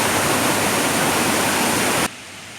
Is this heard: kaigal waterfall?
yes